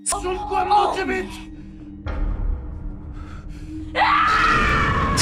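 A woman screaming in a Korean horror film, with a shrill cry, a rough gasping, groaning stretch, then a sustained piercing scream rising at the end.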